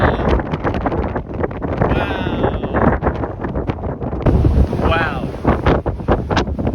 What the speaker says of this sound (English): I think this is synoptic wind.